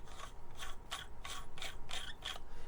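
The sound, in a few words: lightsaber end cap being screwed back on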